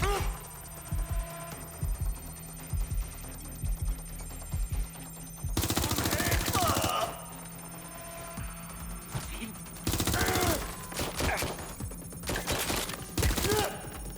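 Gunfire in the video game Watch Dogs: sharp single shots scattered through the opening, then loud rapid automatic bursts in several long clusters, with voices in the background.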